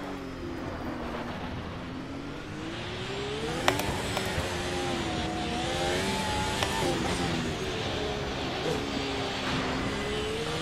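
Race cars on a wet track in Automobilista 2 drone along with steadily whining engines whose pitch rises and dips through gear changes, over a constant hiss of spray and road noise.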